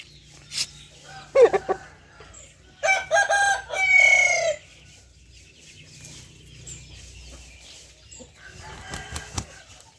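Chickens cluck and squawk nearby while a rooster crows loudly in the middle, with scattered clucks continuing afterward.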